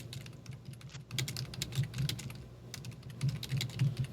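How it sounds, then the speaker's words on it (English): Typing on a computer keyboard, a rapid uneven patter of close key clicks in short bursts, heard alone with a faint low hum behind. "I hear typing."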